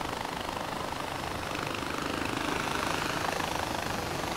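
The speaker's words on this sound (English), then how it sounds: "This helicopter goes by itself." A helicopter in Far Cry 4 flies on windy air, giving a steady broad rotor-and-engine rush that swells slightly midway, with no speech.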